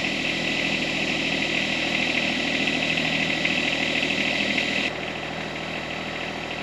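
An auxiliary hydraulic oil cooler fan on a John Deere 1025R tractor hums steadily alongside the idling engine, a constant close whir whose brighter upper tone drops away near the end.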